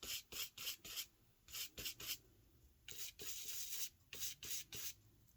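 Gilding wax being rubbed onto a book spine by hand, a close series of short dry rasping strokes in quick bursts, with brief pauses between groups of strokes.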